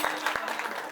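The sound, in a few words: audience clapping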